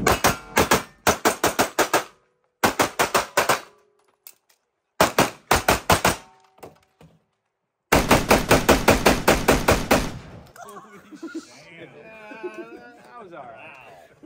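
Rapid bursts of gunfire at an outdoor shooting range, several fast strings of loud, sharp shots separated by short pauses, followed by people talking at the end.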